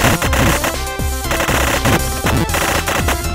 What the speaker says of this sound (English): Machine gun arm, bandit!